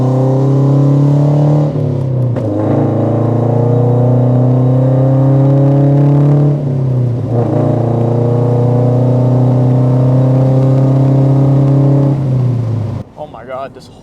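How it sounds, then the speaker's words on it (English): Loud modified exhaust on a Toyota 86 / Subaru BRZ / Scion FRS while driving, a deep droning engine note that rises and falls through several gear pulls, close and steady throughout before cutting off near the end. "my exhaust is extremely loud"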